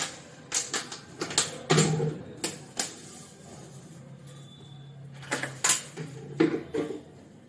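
Plastic water bottles are being washed by hand, with irregular hollow knocks, rattles and splashes in short bursts, then a quieter stretch before more clattering near the end.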